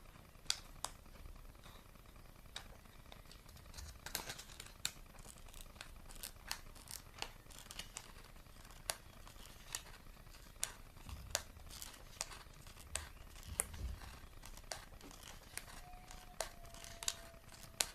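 Scissors snipping through the rim of a cup to shape the points of a party crown, giving a steady series of short, crisp clicks and crinkles up close, with no talking.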